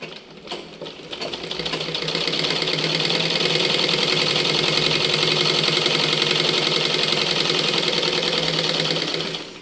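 A sewing machine stitches lines on a practice piece of cloth, a fast, continuous mechanical whir and clatter that starts after a brief pause and runs loud and steady to the end.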